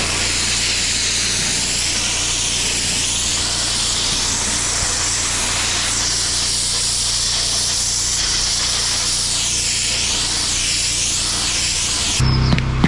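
A pressure washer fitted with a turbo nozzle sprays a steep driveway, a loud continuous hiss of water that holds steady for the whole stretch, with a brief clatter at the end.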